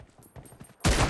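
M24 sniper rifle shot in a shooter video game: a sharp, loud single crack near the end, preceded by faint clicking and rustling game sounds.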